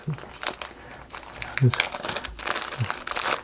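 Crinkling plastic bag of screws pulled open during unboxing of a Wood Trick Dragon Castle wooden model kit, a few close rustling bursts with a person talking around it.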